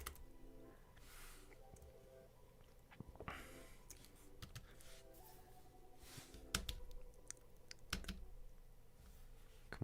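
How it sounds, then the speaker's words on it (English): Fast, uneven typing on a computer keyboard while building a chatbot, close and crisp with clustered key clicks and a few harder taps, continuing throughout without speech. "come on, keyboard."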